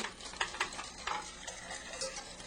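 A whisk scrapes and swishes through macaroni and cheese sauce in a pan over medium heat, in quick uneven strokes with a soft bubbling sizzle underneath, close and fairly quiet.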